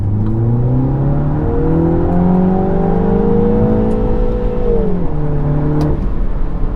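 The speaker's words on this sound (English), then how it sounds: "I love the way this engine sounds." A Mini's four-cylinder engine revs hard under acceleration, its loud, steady drone climbing smoothly in pitch for several seconds before dipping at a gear change and pulling again, heard close from inside the car.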